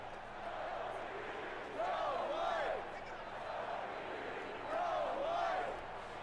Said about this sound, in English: Still got this crowd chanting. Pretty animated crowd right now.